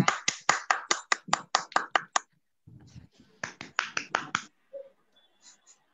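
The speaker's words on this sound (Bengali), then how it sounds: "সবার জন্য তালি দেন একটা" Slow, separate claps from a small class, about a dozen sharp hits in a fairly even rhythm, then a short pause with faint murmuring, followed by another quicker run of claps that trails off into quiet.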